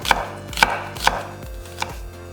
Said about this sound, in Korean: 양파 반개는 살짝 굵게 채 썰어 따로 담고